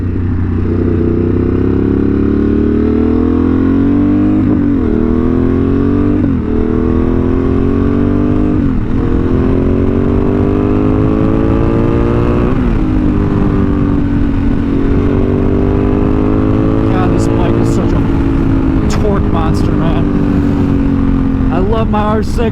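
A Ducati Monster 937 motorcycle is ridden, its engine loud and close, revving up and shifting through repeated rising climbs, with heavy wind rumble and speech over it.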